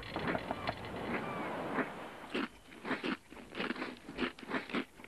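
A Snickers Cruncher chocolate bar is bitten and crunched up close, first with a dense crackle and then with a rhythmic series of sharp crunchy chews, quiet and with no voices.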